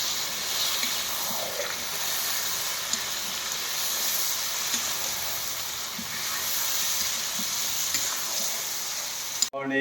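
Goat meat fries with potatoes in a pan, giving a steady, close sizzle and hiss that runs continuously, loud and even, with no voices over it.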